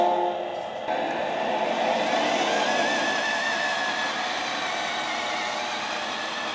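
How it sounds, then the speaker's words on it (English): An RC 1350 model crane truck starts to drive away with a steady, close, whirring electric drive hum that holds level throughout, with no talking. "We can start driving it away."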